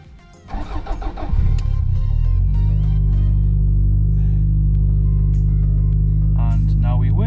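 A Toyota MR2 Turbo engine cranks and catches after an ECU repair, then settles into a steady, loud idle that holds to the end.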